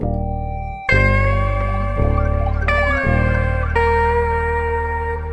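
Processed guitar sample with EQ cutting the lows, light crystallizer shimmer, panning and reverb, playing sustained chords that change about every second, loud and alone with a bright, ringing, effected tail.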